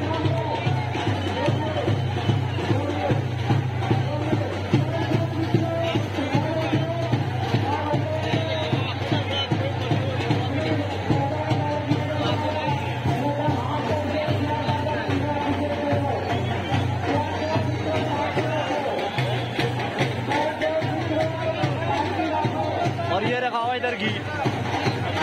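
A large, dense crowd fills the village streets and rooftops at the Vardayini Mata festival in Rupal, Gujarat, with a continuous loud babble of many voices close around.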